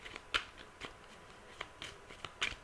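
Tarot cards drawn and laid out one by one for a daily reading, giving a few crisp snapping flicks and soft shuffling slides close by, with no talk.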